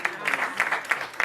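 Brief burst of audience applause at an anniversary event for the Ministry of the Future in Namibia, with irregular clap peaks rising and falling over about a second, fairly faint and alone.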